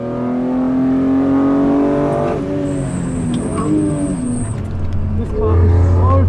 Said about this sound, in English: on the straights when you get it up high in the rev, it just sings